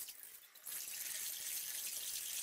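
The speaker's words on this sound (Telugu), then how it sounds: "వాటర్తో ఇలా శుభ్రం చేసుకున్నప్పుడు పైన ఏమన్నా పొట్టు లాంటిది ఉంటే పోతుంది" Rice and split moong dal are rinsed in water in a kitchen for sweet pongal. A brief quieter patch is followed by a steady close splashing and rushing of water.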